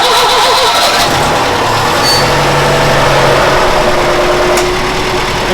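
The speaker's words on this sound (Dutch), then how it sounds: "Dus we starten de motor eventjes." An engine cranks and fires up, then settles into a loud, steady idle with a constant rumble and whine while a hydraulic system is tested, with faint clicks and a metallic ping over the running motor.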